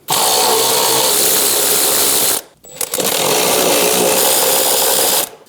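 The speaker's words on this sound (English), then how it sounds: "Using a 13mm socket, we're going to remove the 2 nuts for the hold down." A 13mm socket on a power tool spins off the battery hold-down nuts on a 2011-2023 Dodge Durango, a loud, steady whirring run with a brief pause partway, then a second long burst.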